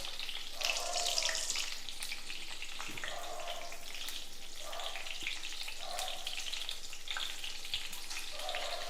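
Small whole eggplants frying in a pan of oil for a Tamil-style eggplant kuzhambu, a steady crackling sizzle with soft bubbling pops throughout, close and even, with no talk.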